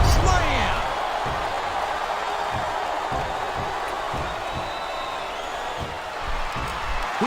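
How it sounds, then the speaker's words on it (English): A body slam landing in a SmackDown vs Raw wrestling game, with an arena crowd cheering and whooping as commentators talk over it; the impact comes early, followed by sustained crowd roar. "The world's strongest slam!"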